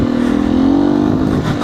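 Close, loud engine of a 2019 Beta 125 RR S motorcycle in first gear, its pitch climbing as the revs rise through a short continuous buzz.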